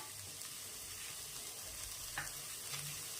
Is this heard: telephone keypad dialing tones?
no